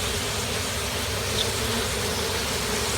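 Honeybees buzz steadily at a hive built into an old shed, a dense, continuous drone holding even loudness throughout with no voices.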